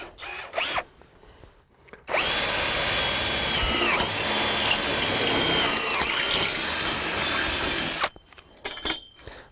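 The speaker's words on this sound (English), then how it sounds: "then we'll drill our next hole" A power drill whines loudly for about six seconds while drilling a bolt hole in a greenhouse frame, pitch dipping as it bites, with brief quieter handling noises before and after.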